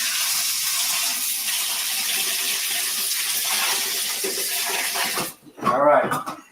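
Tap water runs in a steady, loud rush for about five seconds while filling a pot for blanching basil, then cuts off, followed by a brief splash and clatter.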